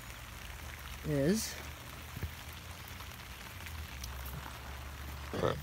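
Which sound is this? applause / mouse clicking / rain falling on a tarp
rain falling on a tarp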